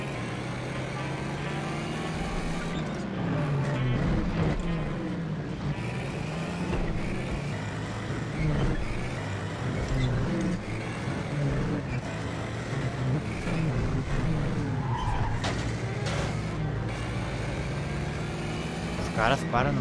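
The Pegasus car drives in The Saboteur video game, its engine roaring loudly under continuous voices, with changing revs and a rough, gritty texture throughout.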